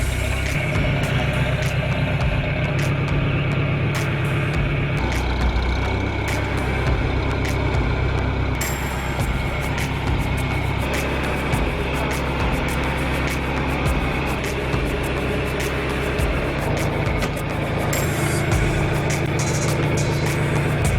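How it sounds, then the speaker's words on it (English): A tractor fitted with a front loader idles steadily on a farm, its low engine rumble continuous and fairly close for the whole stretch, with no talking over it. "We got Grandpa's tractor with a loader."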